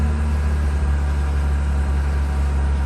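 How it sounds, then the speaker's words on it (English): Mazda RX-8 rotary engine with its electric cooling fans running, a loud, steady low hum and whir close by, unchanging throughout with no talk. "I'm hearing some noise. I think my fans are on."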